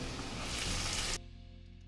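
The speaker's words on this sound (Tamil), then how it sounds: "வெங்காயம் ஒரு 1 நிமிஷம் வதங்கிடுச்சு" Onions and potatoes sizzle loudly in a hot pan for an omelette, a dense crackling fry that cuts off abruptly partway through, leaving a quieter low hum.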